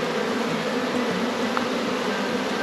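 A large honeybee swarm buzzes close by in a dense, steady drone that never lets up, with no voices.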